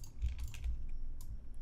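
Computer keyboard keys and mouse buttons clicking during 3D level editing on a PC: a handful of sharp, close taps in an irregular rhythm, with brief quiet gaps between them.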